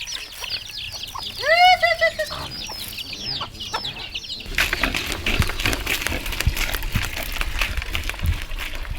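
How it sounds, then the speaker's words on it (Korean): A flock of chickens clucking at feeding time on a small village farm in far northern Thailand, with one bird's rising calls near the start, then a steady rough noise taking over in the second half. "이번엔 닭들입니다."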